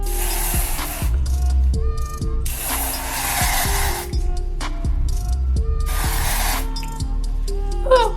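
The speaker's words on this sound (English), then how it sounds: "Okay, so I'm gonna just spray this on here." Product sprayed onto a bald wig cap during a synthetic wig install: several long hissing aerosol bursts in separate spurts with short gaps, close and loud, over quiet background music.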